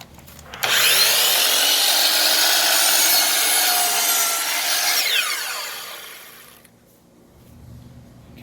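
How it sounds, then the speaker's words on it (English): Power miter saw set to a 35.2 degree angle and bevel cutting wood trim for base and crown molding, one loud close cut that whines through the piece for several seconds, then spins down into quiet. "I've got the saw set up to cut the other way."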